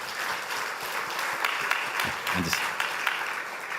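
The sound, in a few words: applause welcoming a newcomer in church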